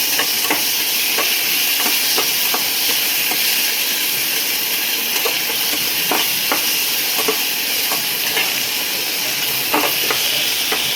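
Tomatoes fry in a hot pan for a country chicken sambar, making a loud, continuous hiss and sizzle broken by scattered clicks and light scraping from stirring, with no one speaking.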